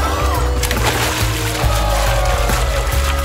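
Water from an overflowing toilet spills and splashes in a continuous, fairly loud pouring and sloshing, heard close.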